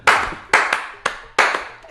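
A small group claps in unison, four sharp bursts of hand claps in a steady rhythm with short gaps between them, close and loud with no talking over them.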